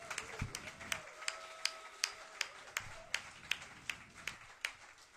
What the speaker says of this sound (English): Let's give Steve a big round of applause.